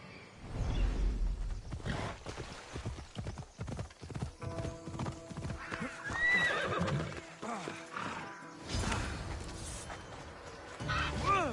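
Horse hooves clip-clop at a steady gallop in the video game Assassin's Creed Odyssey, with a whinny and a few swishes, loud and close throughout.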